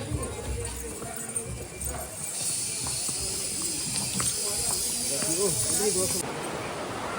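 A horse's hooves clop along a mountain path toward a cave shrine, with steady outdoor hiss and wind, while people talk over the hoofbeats.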